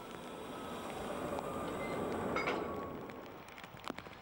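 A diverted passenger train hauled by a class 218 diesel locomotive from the Hagen-Eckesey depot, with an unpowered electric locomotive attached, runs on the non-electrified Sennebahn line; a steady broadband rail rumble swells to a peak midway, then fades with a few sharp clicks.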